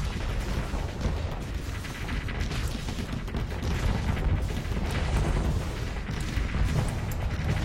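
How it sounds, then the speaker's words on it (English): Missiles fire in a video game, producing a dense, sustained roar of booms and blasts that stays loud and continuous, with no voices. "Fire all the missiles!"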